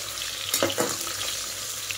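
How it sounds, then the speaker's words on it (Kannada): Chopped onions frying in hot oil give a steady, close sizzle throughout, with a brief stirring scrape near the middle. "ಸ್ವಲ್ಪ ಎಣ್ಣೆಲಿ ಬಿಸಿ ಹಾಕ್ತಿದ್ದಂಗೆ ಕಟ್ ಮಾಡಿರೋಂಥ ಈರುಳ್ಳಿ ಹಾಕ್ಕೊಂಡು ಸ್ವಲ್ಪ ಚೆನ್ನಾಗಿ ಮಿಕ್ಸ್ ಮಾಡ್ಕೋಬೇಕು."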